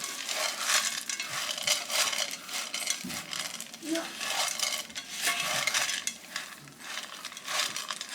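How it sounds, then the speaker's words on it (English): Chocolate chips stirred by hand into thick cookie dough for a cast iron skillet cookie, a continuous thick scraping and mashing with spoon clinks against the bowl, close up, faint voices in the background. "let's stir these in."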